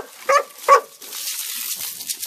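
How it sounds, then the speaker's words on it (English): Two short, sharp dog barks in quick succession, fairly close, followed by quieter rustling and faint background noise. "She's barking at the little midgets over here."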